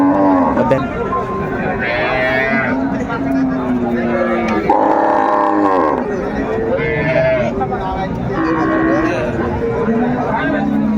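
Cows and calves low and moo repeatedly at a busy rural cattle market in Bangladesh, loud nearby calls rising over steady crowd chatter and voices throughout.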